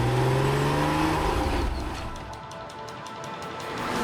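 A Porsche Cayman R engine pulls hard on a drive, loud and close with a rising then falling growl. The roar eases off midway and builds again toward the end.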